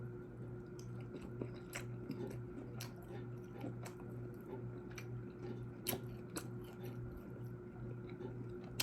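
A person chews food during a morning mukbang, soft wet squishes and small crunchy bites repeating irregularly, close but faint against a quiet steady hum, with no talking.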